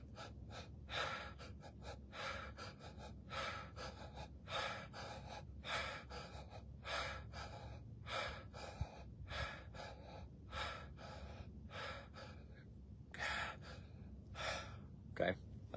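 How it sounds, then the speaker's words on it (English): Deep, rhythmic breathing in and out through the mouth outdoors in the desert, a steady cycle of rushing, airy inhales and exhales repeating about every second, close and clear with a low background rumble. "In and out through the mouth."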